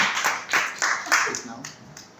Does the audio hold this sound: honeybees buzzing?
no